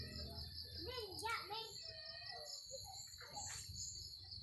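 Birds call and chirp softly in a quiet outdoor setting, with a steady high insect drone behind the calls.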